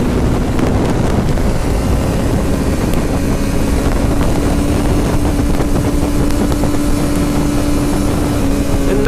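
A Ducati 1199 Panigale S motorcycle engine drones steadily under riding, its note held loud and close with a constant rush of wind noise and no voices.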